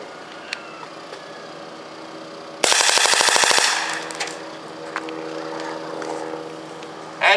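A single burst of automatic fire from an M16 rifle, about twenty rapid rounds in roughly one second, loud and close against a quiet outdoor background, followed by faint ringing ambience.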